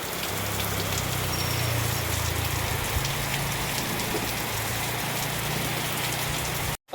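Heavy rain pours onto a roof at a port shelter, a dense, loud, continuous hiss and patter that stays steady throughout and cuts off abruptly near the end.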